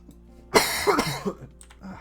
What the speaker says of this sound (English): I'm still coughing from the other month.